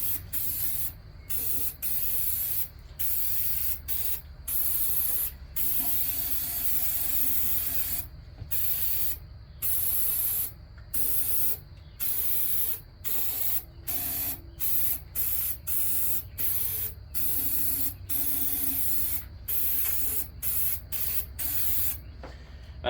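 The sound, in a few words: spraying lubricant from aerosol can into engine cylinders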